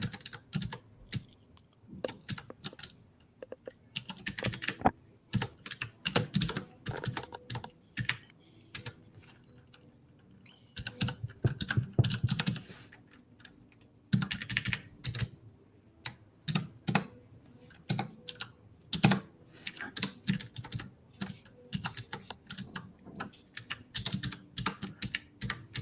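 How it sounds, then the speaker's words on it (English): Rapid keystrokes clatter on a keyboard in uneven bursts with short pauses, fairly close and steady over about twenty-five seconds, with no talking. "You typing on a typewriter?"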